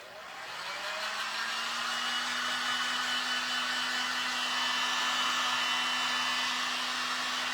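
Hair dryer drying a recycled craft piece, blowing loud and steady with a constant motor hum that ramps up at the start and runs without a break.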